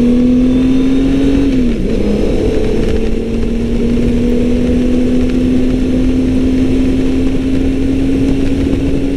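A Honda Goldwing GL1800 motorcycle accelerates on the road, a loud, steady engine drone rising slowly in pitch after a brief dip, heard from the rider's position with constant wind and road noise.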